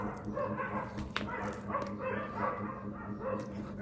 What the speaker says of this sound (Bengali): আপনারা কি শুনতে পারছেন কুকুরদের চিলাচিলি